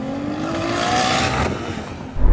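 A 3000 hp Nissan Patrol accelerating hard in a drag race against a Ferrari SF90: a loud, steady engine roar with a rising whine, swelling toward the middle and fading slightly before a low rumble at the end.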